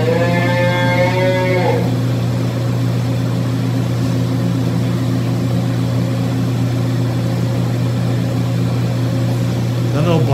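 Jersey cows in a dairy barn give a long low moo near the start and another at the end, over a steady loud mechanical hum from barn equipment.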